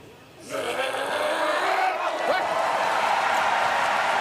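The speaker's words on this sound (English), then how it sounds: "A big roar from the crowd." A crowd at a Paris 2024 Paralympic powerlifting final breaks into a loud, sustained roar after a lift of about 198 kilograms, swelling up suddenly and holding steady to the end.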